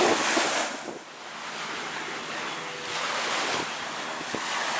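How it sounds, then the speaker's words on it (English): Strong wind and surging sea waves near Koh Lipe, Thailand, a steady broadband roar with gusts buffeting the microphone and no voices throughout. "And right now it's quite a bit windy. Got some waves"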